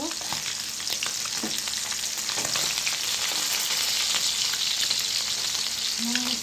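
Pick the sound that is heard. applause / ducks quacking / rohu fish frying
rohu fish frying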